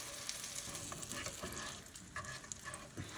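A Monte Cristo sandwich fries in butter in a pan, giving a quiet, close sizzle with a few faint scrapes and shifts. No voices are heard.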